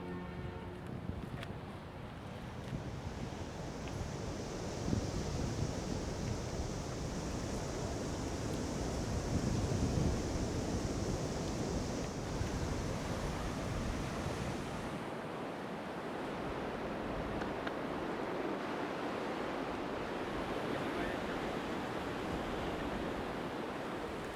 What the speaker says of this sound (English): The sea's ferocious and powerful